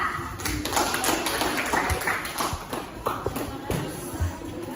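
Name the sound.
audience applause for group 2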